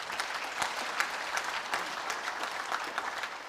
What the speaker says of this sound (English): just to give them a round of applause, please